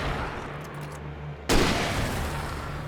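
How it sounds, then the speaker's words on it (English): A single loud, sharp hunting rifle shot from Alan Wake cracks out midway over a low droning game background, followed by a lingering roar as it decays. "Hunting rifle. So good."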